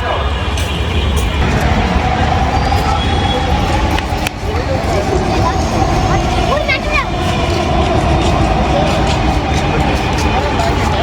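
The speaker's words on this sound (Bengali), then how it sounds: "Metro rail." A metro rail train passing close by, a loud continuous rumble and rolling roar through the whole stretch, with a brief squeal midway, while a crowd chatters and voices talk over it.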